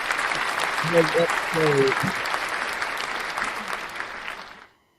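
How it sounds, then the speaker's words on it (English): Crowd applause fills the space loudly and steadily, with a brief spoken voice cutting through early on, then the clapping thins and fades out into silence near the end. "Round of applause."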